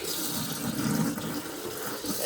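Water from a newly installed household water system rushes out under strong pressure, a loud, steady hiss with no talking.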